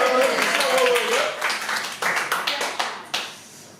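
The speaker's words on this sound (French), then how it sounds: "On a un nouveau technicien, applaudissez-le s'il vous plaît." A small audience claps for a new technician, a brief patter of hand claps that thins into a few scattered, separate claps near the end.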